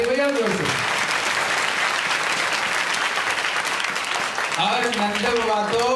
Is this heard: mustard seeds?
no